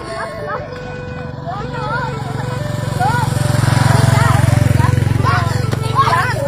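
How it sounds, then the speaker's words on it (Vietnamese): A motorbike engine drones steadily close by, its buzz swelling slightly louder midway, while several people talk loudly over it throughout. "Xe máy nha."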